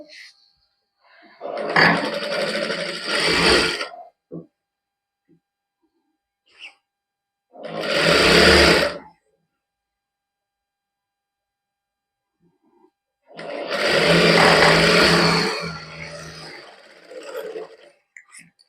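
A sewing machine stitches a salwar in separate bursts, first about two seconds long, then one short run and one longer run. The bursts are close and fairly loud, with near silence between them.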